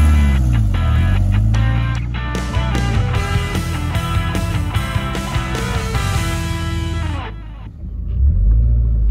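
A 1999 Subaru Impreza 2.0 non-turbo estate is driven hard from inside the cabin, its flat-four engine revving up through the gears in rising, falling sweeps before easing off, then rumbling again at the end.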